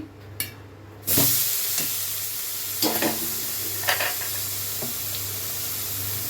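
Poppy seed and green chilli paste hits hot ghee in a pan for chhana bhapa with a sharp burst of sizzling, followed by steady frying hiss and a few clinks of stirring.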